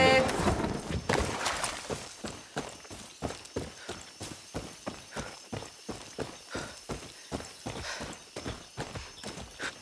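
Hooves clip-clop in a steady walking rhythm as a horse moves along in Far Cry 6, with clear, evenly spaced strikes close by following a brief louder start.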